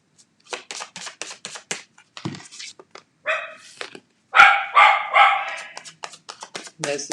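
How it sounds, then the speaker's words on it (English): Dogs bark and yip in short bursts indoors, mixed with a person talking and the shuffling of tarot cards, fairly close and moderately loud. "There's the doggies joining us."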